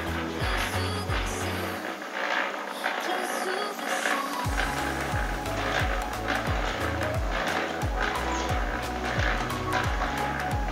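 A small mini concrete mixer (molen) runs at standard speed, giving a steady, loud mechanical rumble with repeated rhythmic knocks and clatter throughout, with no speech.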